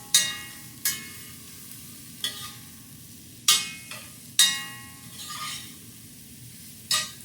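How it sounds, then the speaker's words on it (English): Onions frying in a pan for a vegan West African groundnut stew give a steady close sizzle, broken by several sharp bursts as they are stirred and turned, at irregular intervals. "add the onions and cook till they begin to soften"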